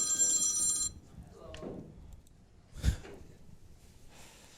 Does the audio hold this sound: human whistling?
no